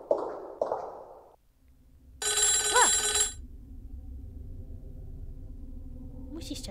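Telephone bell ringing in a horror language-decoding romance video game, a single bright electronic ring burst lasting about a second, preceded by speech and followed by a quiet low hum.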